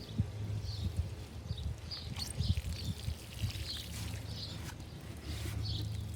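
Gentle trickle of water from a watering can sprinkled onto newly planted garden plants, a soft continuous patter heard faintly over several seconds with birds chirping in the background.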